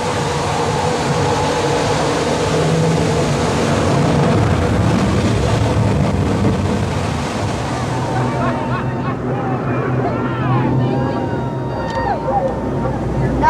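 A powerful racing boat engine roars steadily with rushing water noise, then the roar eases and fades as it slows, with splashing left behind.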